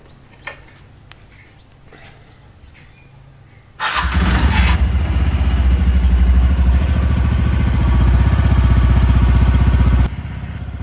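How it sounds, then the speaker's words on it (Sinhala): A repaired TVS Ntorq scooter engine fires up after a few seconds of quiet clicks, then idles and runs steadily and loudly close by, with a slight rise in pitch before it drops back near the end. "අපි දැන් බලමු බයිසිකලය ස්ටාර්ට් කරලා දැන් සවුන්ඩ් එක කොහොමද කියලා"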